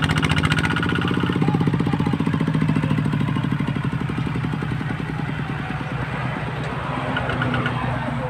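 Kubota ZT155 and Yanmar 120 tractor engines run close and loud with a rapid, steady chugging diesel thrum, pulling out of a farm field onto an asphalt road.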